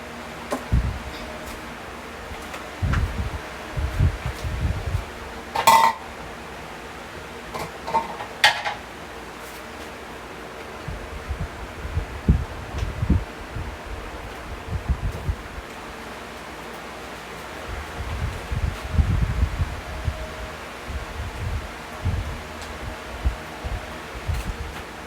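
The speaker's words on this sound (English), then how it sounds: "Let me give the rice a stir and we can get back to that." Rice being stirred in a cooking pot for a home Sunday dinner: soft scraping and occasional light metallic clinks of a utensil against the pot, with gentle rustling in between and no talking.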